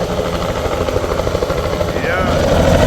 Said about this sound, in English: So the helicopter is blowing the cherry.